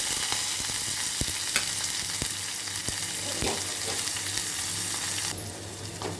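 Mustard seeds, urad dal, cumin and onion fry in hot oil with a loud, constant sizzle and scattered pops and clicks from stirring, heard close up.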